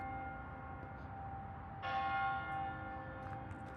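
A church bell rings faintly from a distance, its ringing tone hanging steadily before a fresh, slightly louder strike blooms out and slowly decays.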